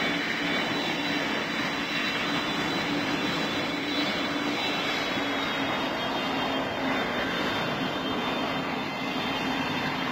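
Air Force One aircraft engine throttling up during pushback, a steady loud broadband roar with a sustained whine, continuous and close throughout with no pauses.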